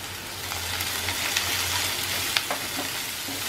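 Chopped spring onion whites, diced onion and capsicum sautéing over a high flame, a loud, dense hiss of frying with a few sharp pops and clicks of a spatula, close and continuous for a few seconds.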